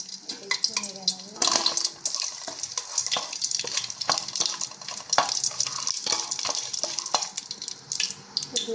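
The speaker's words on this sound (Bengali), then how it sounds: "বাকি তেজপাতা, লবঙ্গ আর দারুচিনি দিয়ে দিলাম। এটা একটু নেড়ে নেবো।" Bay leaves, cloves and cinnamon stir in hot oil in a pan for a spiced chicken liver dish, with a light sizzle under irregular clinks and scrapes of a spoon against the pan, close and with no talking.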